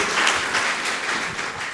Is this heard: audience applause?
yes